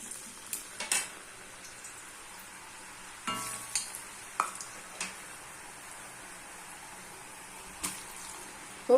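Murukku made from moong dal and rice flour deep-frying in hot oil, giving a soft, steady sizzle with a few sharp clinks and scrapes of a utensil against the pan, and no talking.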